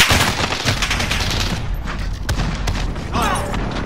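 Rapid sustained bursts of Holger 26 light machine gun fire in Modern Warfare, loud and close, with dense overlapping shots and brief mechanical clatter.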